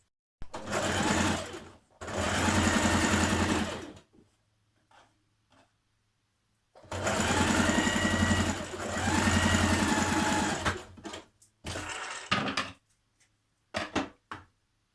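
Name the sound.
sewing machine stitching an underarm seam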